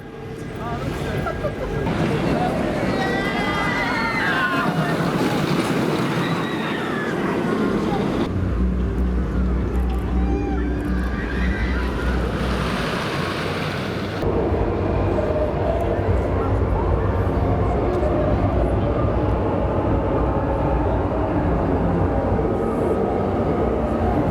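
Goliath steel roller coaster at Walibi Holland in full run: a loud, continuous roar of wind and rumbling track noise, with shifting rattles and passengers' voices carried over the din.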